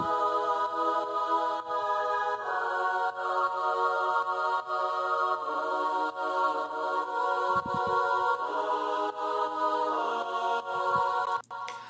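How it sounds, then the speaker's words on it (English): Choir sample played in the Kontakt sampler, sustained sung vowel chords with the low end cut and highs boosted, held steadily and shifting chord around the middle, with a brief low thump partway through and a sharp click near the end. "And the last sound I have is a choir in Contact"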